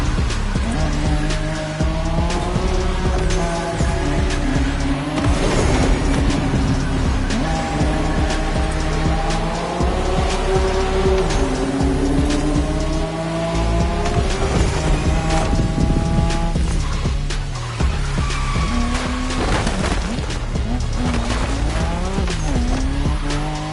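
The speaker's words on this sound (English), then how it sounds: "Don't you forget, it's all about drifting." Car drifting with sustained tire squeal in The Crew Motorfest racing game, loud engine wailing through shifting revs alongside continuous skidding screeches throughout, no talk.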